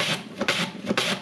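Something shaved quickly on a grater in a home kitchen while making quick beef pho, three rough rasping strokes in a steady rhythm, close and fairly loud, with no talk.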